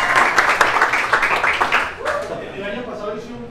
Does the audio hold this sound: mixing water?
no